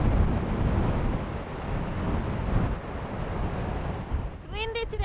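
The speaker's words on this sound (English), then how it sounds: "It's windy today." Strong wind buffets the microphone at the seashore, blending with a steady roar of surf; a voice begins speaking briefly at the very end.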